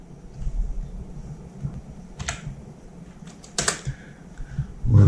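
Chinese characters being typed on a computer keyboard, with scattered key clicks and a few sharper bursts of presses. The typing is fairly close and sounds alone over a soft room hum, with no one talking.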